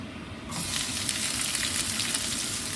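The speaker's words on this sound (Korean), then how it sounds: "맨 처음에는 기름으로만 양파를 볶아주겠습니다." Onions hit hot oil in a pan and burst into a loud, continuous sizzle that holds steady with faint stirring underneath, after a brief quieter moment at the start.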